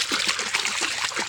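Flowing water on a farm field trickles and splashes steadily and close as people play in it, a continuous bubbling wash with no clear talk.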